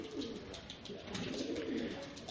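A pigeon coos softly and repeatedly in low, rolling notes, close by, with faint background noise.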